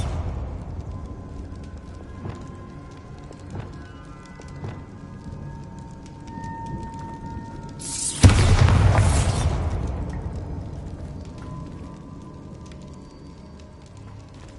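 A Bombarda spell explodes in Hogwarts Legacy: a single sharp, loud burst followed by a broad roaring decay over a couple of seconds, set against steady game ambience with scattered small clicks and taps.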